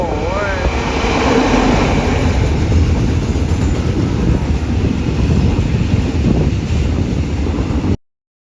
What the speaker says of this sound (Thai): แปดโมงสิบแปดนะขบวนห้าห้านะครับ